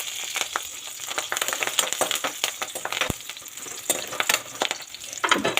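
Curry leaves frying in hot oil in a pan, a steady crackling sizzle with sharp pops and spits throughout, close up.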